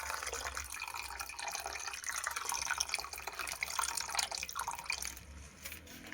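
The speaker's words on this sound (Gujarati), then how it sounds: "હવે આપણે એમાં નાખી દેવું છાશ।" Buttermilk pours steadily into a pot in a continuous, close liquid stream, with a trickling, splashy texture for several seconds before it eases off.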